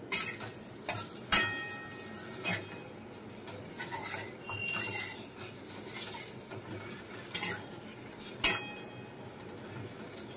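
Whole garlic cloves go into a kadai of hot oil, a soft frying sizzle under repeated sharp clinks of a spoon against the pan and a few stirring scrapes, close by with no speech.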